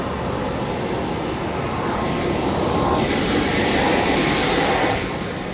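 Steady, loud roar of airplane engines heard inside the cabin, a constant broadband drone with a faint high whine, no voices.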